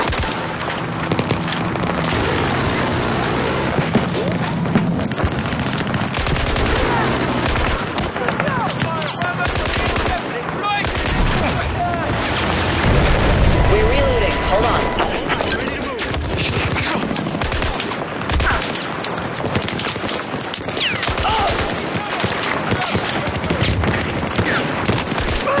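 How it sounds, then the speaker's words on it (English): Sustained Battlefield 4 combat gunfire rattles continuously for the whole stretch, loud overlapping shots and booms layered over game noise and radio chatter from soldiers. "Watch out, I'm firing!"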